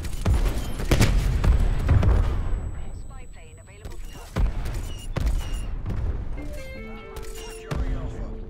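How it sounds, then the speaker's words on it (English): Gunfire in the video game Call of Duty Cold War with an MP5, loud bursts of shots and booming impacts through most of the stretch, with a short lull in the middle. "What are you shooting at?"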